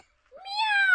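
A man imitates a cat with a single rising, drawn-out meow, clear and close, lasting under a second after a brief silence.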